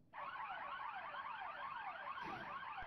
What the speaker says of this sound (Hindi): इन पर भी अलार्म लगा हुआ है